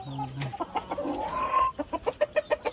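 Chickens cluck close by in a quick, rhythmic series of short clucks in a backyard, with a drawn-out squawk in the middle and faint ambient noise behind.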